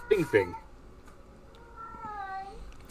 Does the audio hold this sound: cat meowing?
yes